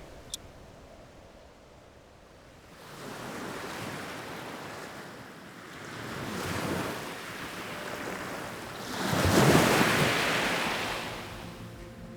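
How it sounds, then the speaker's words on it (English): Calm Antarctic ocean waves swell and wash in slow surges, with a steady wind-like rush rising and falling between them. "This morning's calm waves are a welcome relief after last night."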